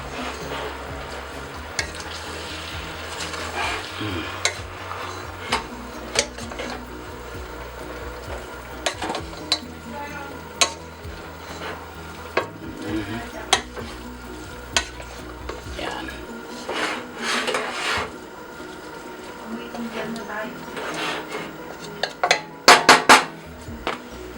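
Papaitan soup stirred in a pot after tamarind soup base mix goes in, with irregular close scraping and clinks of utensil on cookware and a few louder knocks near the end.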